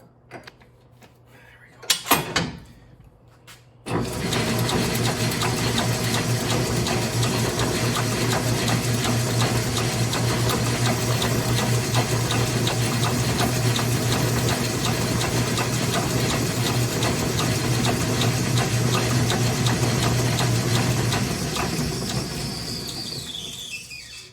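A lathe spins a 2002 Suzuki Carry crankshaft for polishing. After a short clatter it settles into a loud, steady machine drone with a high squeal for nearly twenty seconds, then winds down at the end.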